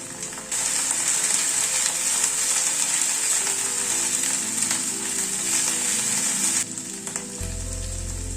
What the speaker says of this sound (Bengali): গ্যাসের ফ্লেমটাকে লো টু মিডিয়ামে রেখে মশলাটা কষাচ্ছি